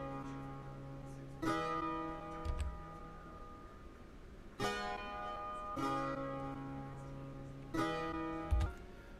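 Guitar-like chord from a Kontakt sampled instrument in a Maschine and FL Studio session, struck four times at a slow, uneven pace, each chord ringing out and sustaining before the next.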